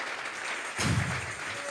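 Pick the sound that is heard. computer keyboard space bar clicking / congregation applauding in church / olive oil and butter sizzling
congregation applauding in church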